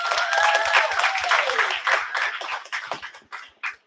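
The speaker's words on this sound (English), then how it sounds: "Can we practice clapping for the homie real quick?" Clapping from an open mic poetry slam audience, scattered and uneven under cheering voices, with a low rhythmic thump running beneath and the claps thinning into sporadic bursts.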